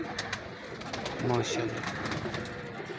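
Breeder pigeons, including a red-eyed pigeon, coo softly in a loft over a steady background hum, while someone speaks a single short word nearby.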